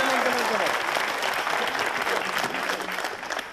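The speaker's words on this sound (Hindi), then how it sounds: "एक राउंड तालियों का भी बाकी है" Studio audience applause on a Hindi TV talk show, a dense sustained burst of clapping from a full crowd that holds steady and tapers slightly at the end, with a voice briefly audible at the start.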